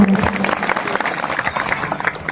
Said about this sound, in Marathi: एकदा जोरदार टाळी वाजवायची